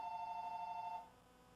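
A steady electronic phone ring tone holds for about a second in a car workshop, then cuts off, leaving quiet room noise.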